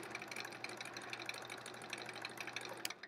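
A sewing machine stitches a scallop edge in free motion quilting, a quiet rapid steady chatter of the needle running close for about three seconds.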